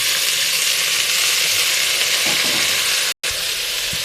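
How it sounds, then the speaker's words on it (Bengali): Water spinach (kalmi greens) fries in a pan with ginger and green chilli, a loud, close, continuous sizzle that cuts out for a moment before carrying on. "কলমি শাক ভাজা হয়ে যাচ্ছে"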